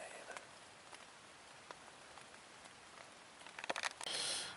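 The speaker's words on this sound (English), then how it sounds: "I love the sound of the rain" Steady patter of rain on a stealth camping setup in bad weather, fairly quiet, with scattered drops and crackles, building to a louder, denser burst near the end.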